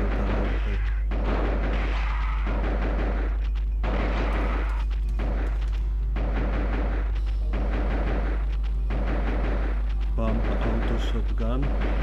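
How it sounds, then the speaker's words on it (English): Pump-action auto shotgun firing in the Duke Nukem: Time to Kill video game, a run of loud booming blasts in quick bursts over constant game noise and a heavy low hum. "Shotgun."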